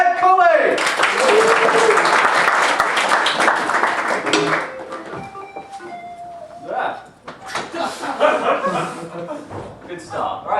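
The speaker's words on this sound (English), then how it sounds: "Can I have a clap for those as well?" Crowd at a comedy club claps loudly for a comedian coming onto the stage, a thick burst of applause that thins out after a few seconds, with scattered chuckles and a voice speaking over the end.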